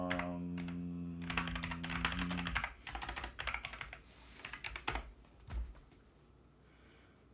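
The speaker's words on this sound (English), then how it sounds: "people be typing all types of stuff on my computer" Someone types on a shared computer's keyboard in clustered bursts of close clicks and key taps, while a steady tone fades out early and a few louder thumps punctuate the typing.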